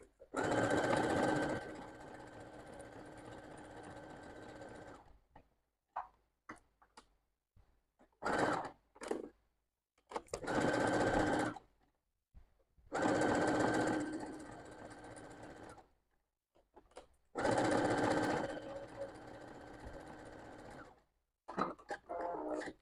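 A sewing machine stitches fabric and felt for an owl-shaped holder, running in about four loud, close bursts of rapid stitching separated by pauses with brief handling noises and some talk.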